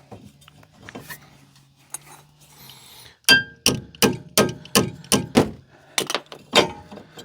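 A brake pad is worked into a car brake caliper during reassembly, during a 2CV engine swap and Charade reassembly. After quiet fiddling comes a run of about a dozen sharp metallic clangs and knocks at an uneven rhythm, close and loud.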